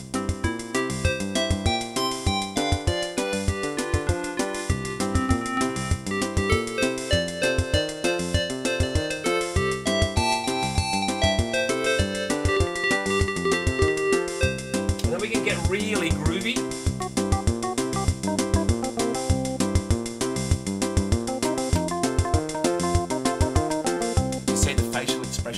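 A Yamaha PlayCard battery-operated electronic organ plays a continuous, dense run of buzzy electronic tones with a steady bass pulse, loud and close, holding some longer notes later on, at an outdoor festival.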